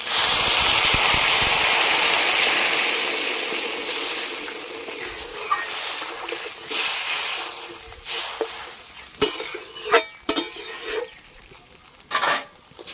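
Water poured into a pan of fried, spiced potatoes hisses loudly at first, then the steam sizzle fades to a softer bubbling simmer with a few clinks of a utensil near the end.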